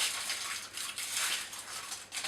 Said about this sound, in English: all you want to do is just break it up so that it's going to melt easier